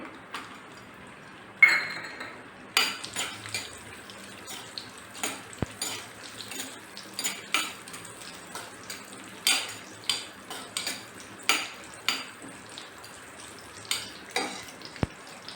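Raisins are dropped into a hot pan and fried while making rava laddu, with light sizzling and a run of regular clinks and scrapes from a spoon against the pan.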